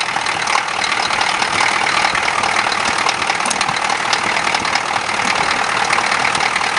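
A diesel K5 engine runs with a loud, continuous, rough drone that holds steady throughout, close to the listener, with no talking over it.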